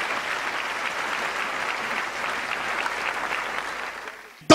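A church congregation applauds loudly and steadily for several seconds, a dense wash of clapping that cuts off abruptly near the end.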